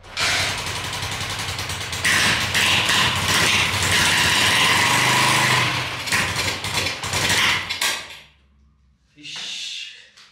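A Honda CG 125 motorcycle engine runs rough, loud and close, with uneven mechanical clatter for about eight seconds before it dies and briefly coughs again.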